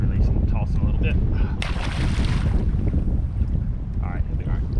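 Gusty wind buffets the microphone on an open lake bank during heavy winds, with water lapping and a brief rushing burst midway.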